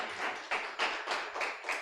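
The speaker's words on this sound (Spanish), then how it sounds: "Dele un fuerte aplauso, por favor." Church congregation applauding during a Spanish-language family worship service, a steady burst of broadband clapping with rhythmic surges roughly every half second, fairly close and continuous with no talk.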